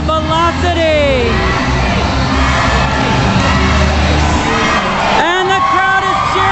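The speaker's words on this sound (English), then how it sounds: "And the crowd is cheering Nasty." A roller derby crowd at an Arizona Derby Dames bout cheers and whoops loudly through a close final jam, a dense continuous roar with shrill shouts over a busy arena babble.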